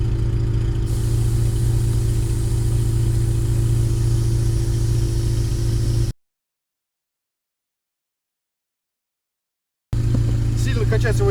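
A portable tire inflator plugged into a quick-connect coupler pumps up a flat wheel on a UAZ Hunter, a loud, steady, close droning motor buzz that cuts out abruptly for a few seconds and then resumes.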